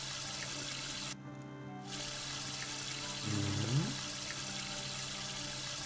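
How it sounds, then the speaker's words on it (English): Water runs steadily from a faucet in the puzzle game When The Past Was Around, a constant rushing stream that briefly dips, then swells as the flow shifts near the end. "Oh, this is for the faucet."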